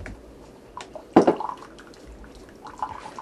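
Water poured into a coffee maker's reservoir, a short splashing gush in the middle surrounded by faint drips and clinks, close and alone.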